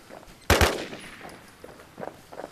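Two sharp gunshots crack into the air in quick succession in the survival game Infestation Survivor Stories. They are loud against a quiet background, followed by faint rustling.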